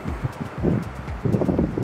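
Strong gusting wind buffets the microphone on a beach promenade at Costa Teguise, Lanzarote, in late February, a low rumbling roar that swells and dips continuously with no one speaking.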